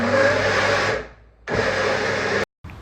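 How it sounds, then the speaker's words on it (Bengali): Electric blender grinding a spice mixture of turmeric, chili and coriander powder for fish curry, a loud whirring run that stops, restarts after a short pause, then cuts out briefly before resuming. "তারপর সবগুলো একসাথে আমি ভালো করে ব্লেন্ডার করেছি"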